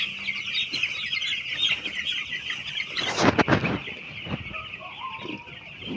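A dense flock of 13-day-old chickens on a poultry farm clucks and chirps continuously, a busy high chatter with a few louder bursts of movement partway through.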